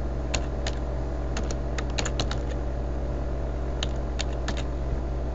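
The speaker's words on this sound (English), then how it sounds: "you can continue typing here as much information as you want" Typing on a computer keyboard while entering text for a St Joseph school plaque: scattered bursts of crisp, close key clicks over a steady low background hum, with no talking.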